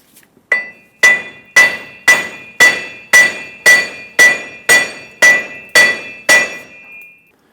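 Dodge Ram 2500 front wheel bearing hub being driven out with hammer blows, eleven sharp ringing metallic strikes at a steady, even pace, close and loud with a bright clink on each hit.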